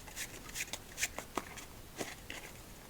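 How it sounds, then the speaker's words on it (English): A new deck of playing cards is shuffled close to the microphone with soft riffling and several crisp card snaps, quiet and intimate for a solitaire game. "Shuffle up our interesting new deck, and let's get our night underway."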